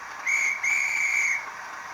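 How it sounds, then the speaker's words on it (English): Two shrill, steady guard's whistle blasts from a model Class 37/7 locomotive's DCC sound, a short one followed by a longer one, sounding clear and close. "Guard's whistle,"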